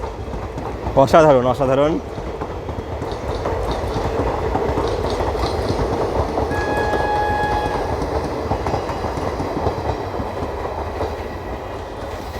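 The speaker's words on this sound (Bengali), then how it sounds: "WAP7 লালগোলা কিন্তু আমাদের রানাঘাট জংশন প্ল্যাটফর্ম ছেড়ে চলে গেল।" A WAP7 electric locomotive hauling the Lalgola train pulls out of Ranaghat junction platform, sounding a loud horn blast near the start, then a steady rumble of rolling wheels and carriages as someone speaks briefly.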